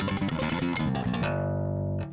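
A gritty, distorted bass guitar riff through a Tech 21 Geddy Lee signature pedal, thick low harmonics playing steadily, then settling into one sustained ringing note that fades out.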